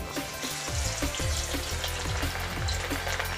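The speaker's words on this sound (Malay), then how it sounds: "Sekarang kita akan goreng daging ini tapi tidak terlalu lama." Beef for ginger beef sizzles loudly in hot oil with a constant crackling hiss, plus a few soft stirring clunks, close up and with no voices.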